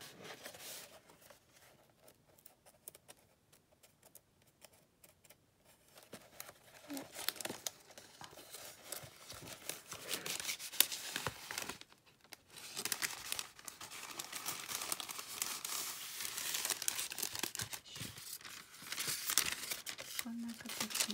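A paper package holding bought fabric is opened by hand, producing close, steady crinkling and tearing of paper that grows busier toward the end.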